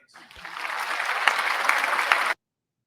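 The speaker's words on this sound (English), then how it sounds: "Clap your hands." An audience claps along, the applause swelling quickly to a steady, dense patter for about two seconds before cutting off abruptly, with a voice briefly audible at the start.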